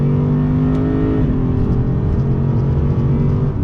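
Engine of a 2020 Lexus RC F Track Edition on throttle, a steady loud droning hum with strong low harmonics that shifts pitch slightly partway through, continuous and close with no talk.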